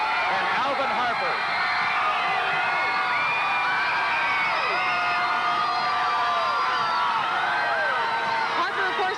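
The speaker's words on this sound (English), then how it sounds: "this crowd is beginning to go crazy as the players begin to whip them up" A large street crowd at the 1993 Dallas Cowboys Super Bowl victory parade cheers and whoops in a dense, continuous roar, with shouts rising out of the mass throughout and no pauses.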